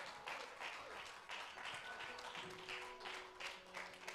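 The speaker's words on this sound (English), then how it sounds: "Give a big round of applause in the mighty name of Jesus." Applause from a church congregation during an Easter sermon, faint but steady clapping in pulsing waves, heard from a distance with no voices over it.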